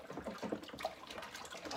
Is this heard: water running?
yes